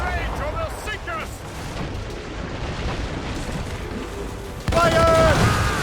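Ship cannons boom in a naval battle in the video game Assassin's Creed Rogue, with heavy blasts under churning battle noise and shouted voices, and a louder burst near the end.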